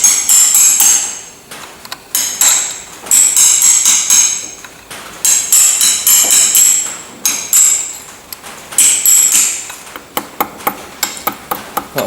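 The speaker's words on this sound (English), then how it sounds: "So got me little chisel. Bring these little tabos out of the way." A small chisel is struck repeatedly with a hammer while working on Ferguson TEA20 tractor parts, producing sharp metallic blows in bursts, then a run of quicker single taps near the end, close and loud.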